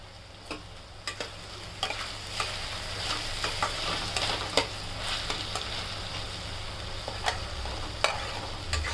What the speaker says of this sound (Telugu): ఇలా వేగుతుంది.